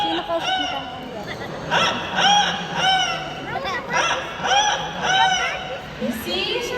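An Amazon parrot at a bird show imitates a rooster crow, giving a series of harmonic, wavering calls that repeat roughly every second, loud and close, with crowd chatter in the background.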